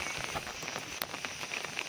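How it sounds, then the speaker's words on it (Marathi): Light, fine rain falls over village fields, a steady close patter of drops on surfaces with no one talking. "सगळं पाऊस चालू आहे"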